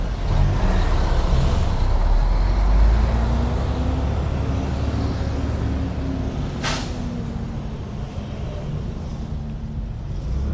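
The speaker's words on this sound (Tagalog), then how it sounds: "Traffic din dito." Road traffic near Gen. Trias fills the air with a constant rumble of cars, trucks and buses, and a sharp hiss of air brakes cuts through about two thirds of the way in.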